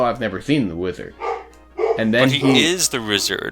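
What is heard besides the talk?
dog barking in the background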